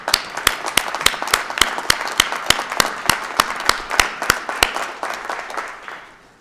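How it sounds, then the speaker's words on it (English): A ceremony audience claps in unison with sharp, evenly spaced claps, loud and rhythmic, tapering off toward the end. "salute and applaud your family and friends who are right behind you"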